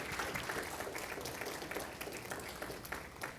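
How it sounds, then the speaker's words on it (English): Audience applause for a speaker introduced at a 2021 summit, a dense, fairly quiet wash of many hands clapping at once, steady throughout with no talking. "Please give a round of applause to Tom Aderhold."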